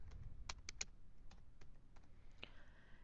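Several crisp keystrokes on a computer keyboard, tapped in a quick irregular cluster and then scattered singly, close and fairly quiet, while a spreadsheet label is entered.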